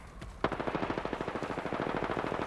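Automatic weapon fire in Apex Legends: a single shot, then a fast, even burst of roughly two dozen rounds rattling close and loud with no voices.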